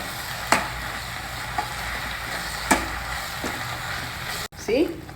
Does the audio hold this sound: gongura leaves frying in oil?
yes